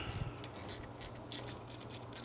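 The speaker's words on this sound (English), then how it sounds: "I'm gonna try sliding these carburetors front." Carburetors on a cafe racer motorcycle project are slid forward on their intake clamps during repair, giving a close, quiet run of irregular metallic clicks and light scraping bursts with no talking.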